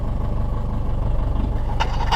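Ford Transit van engine running with no muffler fitted, a steady loud low rumble throughout with a couple of brief higher rattles near the end.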